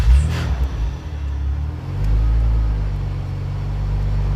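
A Nissan 300ZX Z32 twin-turbo engine running just after starting, a steady low rumble with a brief surge near the start, close and continuous with no talk.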